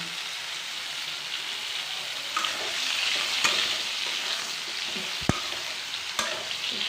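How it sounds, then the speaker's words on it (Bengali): Sweet pumpkin pieces frying in oil in a pan, a loud steady close-up sizzle with occasional clinks and scrapes of a spatula stirring, no voices. "এরকম করে মিষ্টি কুমড়া ভাজা খেতে আমার খুব ভালো লাগে"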